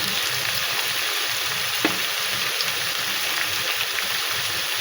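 Spices frying in hot oil with salt, turmeric and coriander for a bhetki fish curry with kohlrabi and taro, giving a steady, close, even sizzle that runs unbroken throughout with one faint clink midway.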